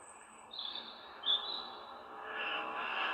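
A European robin sings in pitch darkness at about ten at night, its thin high phrases rising and falling in short bursts over a faint, steady background hiss.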